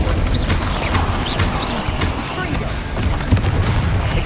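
Confringo fire-blast spell in the Hogwarts Legacy video game, cast repeatedly in combat, a string of loud booming bursts and crackling impacts over a dense, steady bed of battle noise.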